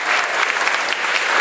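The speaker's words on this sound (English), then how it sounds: "big round of applause for Miss" Loud, sustained applause from a rally crowd in Manchester, New Hampshire, clapping steadily and densely throughout for Miss New Hampshire USA 2015 at a Donald Trump campaign event.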